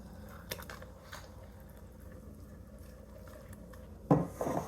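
Keto flour batter mixed by hand in a bowl, soft squelching stirs with occasional utensil clicks against the bowl, close and quiet, ending in a couple of louder knocks.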